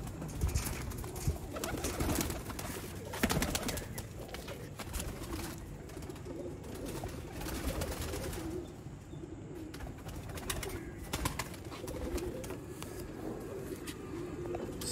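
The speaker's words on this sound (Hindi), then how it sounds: "सियालकोटी कबूतर" Sialkoti pigeons coo softly in a breeder's loft, their low rolling calls repeating near and far amid other bird sounds and faint passing traffic, with no voices.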